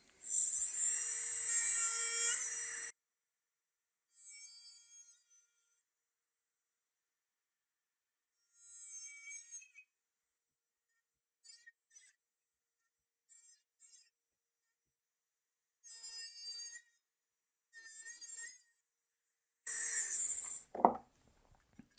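A rotary tool fitted with a cutoff disc, lubricated with candle wax, cuts into an aluminium part in short separate bursts of high-pitched grinding whine separated by silence. A longer, louder cut opens the sequence and another ends it, close by and without talk.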